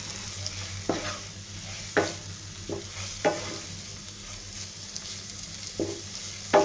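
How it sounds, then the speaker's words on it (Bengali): Fish fry in a pan with ginger-garlic paste, turmeric and chili powder, giving a steady soft sizzle broken by about six sharp scrapes and knocks of a spatula stirring the pieces. "মাছগুলো মশলার সাথে আরও 2-3 মিনিট ভাজা নিব।"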